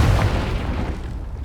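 The Confringo explosion spell goes off in Hogwarts Legacy, a close, heavy boom with a deep rumbling tail that fades steadily over a second and a half.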